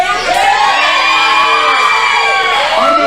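A wrestling crowd at an independent promotion event cheers loudly and continuously around the ring, with high-pitched shouts and whoops rising over the din.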